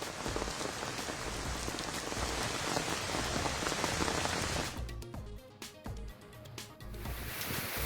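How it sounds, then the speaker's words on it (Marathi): Heavy rain pours down in Mumbai as a loud, dense, continuous hiss of drops on surfaces, easing partway through into sparser patter and splashes before thickening again; no voices. "मुंबईसह उपनगरांमध्ये दमदार पावसाला सुरुवात."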